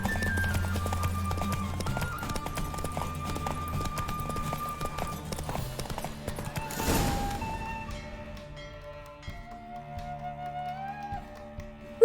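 Rapid hoofbeats of a galloping horse clatter in The Witcher 3 over game music and effects, with a loud crash partway through, then the gallop fades as the music continues.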